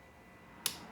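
A torque wrench gives a single sharp click while a head bolt is tightened to 20 foot-pounds on a 1986 Honda ATC 200x, faint and close against a quiet background.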